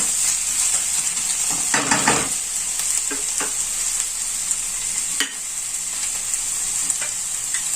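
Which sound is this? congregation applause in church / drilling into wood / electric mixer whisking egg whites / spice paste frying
spice paste frying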